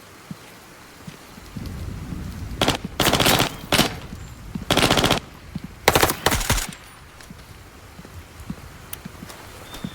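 Grenade blasts in the video game Incursion Red River, several loud, heavy booms in a cluster with rumbling tails, separated by brief pauses over a quiet background.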